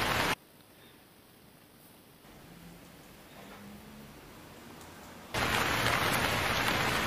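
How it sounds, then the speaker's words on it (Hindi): Rain sound effect from a KineMaster green screen overlay, with a loud dense downpour hiss that cuts out abruptly, leaves a low quiet patter, then bursts back in at full strength near the end. "रेन वाला ग्रीन स्क्रीन इफ़ेक्ट फिर से ऐड करूँगा"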